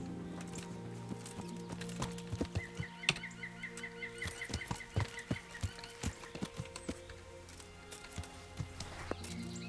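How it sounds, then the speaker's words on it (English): Horse hooves clip-clop in steady rhythm in the game Kingdom Come: Deliverance, fairly close and soft, with birdsong and chirps around them and no voices. "Horsey. Bucephalus, my noble steed."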